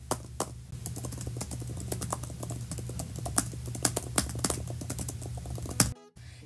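Rapid, steady typing on a white Apple Magic Keyboard for a 2021 iPad Pro, each keystroke a soft, close-up thump in a fast, continuous run, ending abruptly.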